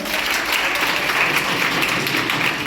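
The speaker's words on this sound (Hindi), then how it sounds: "तालियां बजाओ" An audience at a large coaching-class seminar applauds steadily, a dense, sustained wash of many hands clapping at an even level throughout, with no single voice standing out.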